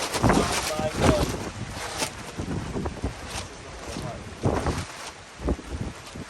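Strong storm wind in the Scottish Highlands buffets a car while someone camps in it, gusting roar and microphone buffeting that rise and fall in surges, with a person talking over it.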